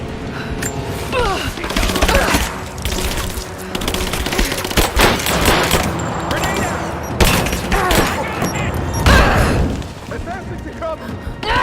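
Gunfire in the video game Rise of the Tomb Raider during a forest shootout, rapid bursts of shots and booming impacts mixed with game music, with enemy voices shouting over the fight.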